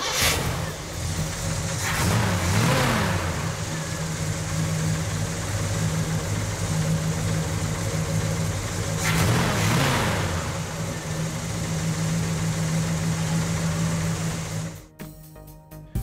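A 1969 Chevrolet Chevelle SS L78 V8 idles with a steady low rumble, rising twice into short revs before settling back, then cutting off near the end.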